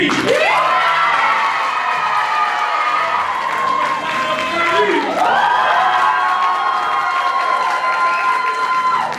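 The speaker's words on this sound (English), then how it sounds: "Everybody clap it up for DB." Loud crowd at a youth showcase event cheering and shouting with clapping mixed in, young voices rising in long whooping swells that surge twice, close and continuous.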